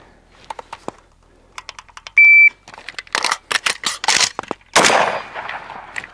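A shot timer gives one sharp, steady electronic beep during a dry rifle reload drill. Clicks and clacks of magazine and gun handling come before and after it, and there is no talking.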